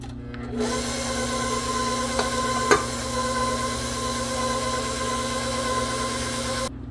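Stand mixer running steadily in second gear, beating sweet potato praline pound cake batter, a continuous motor whir with a few light clicks of ingredients or utensil against the bowl.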